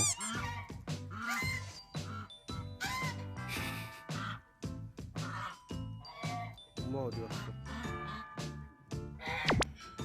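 Geese honk repeatedly in loud, nasal bursts, several calling over one another in an uneven, noisy chorus.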